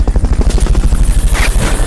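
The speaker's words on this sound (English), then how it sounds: "Fulton recovery helicopter is complete." Helicopter rotor from the Fulton recovery sequence in the video game Metal Gear Solid: Peace Walker, a loud, steady rapid thudding of blades throughout with a brief hiss near the end.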